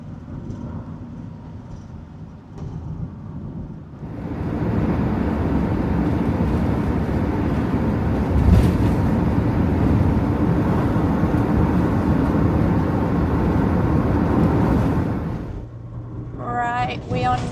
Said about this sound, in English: we are now driving up the side of Loch Ness